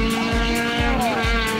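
A T2000/S2000 race car from the Autorrepuesto 2001 Racing Team, driven by Enrique Gillet in qualifying with light rain starting, roars close by with a steady engine and repeated surging rises in pitch.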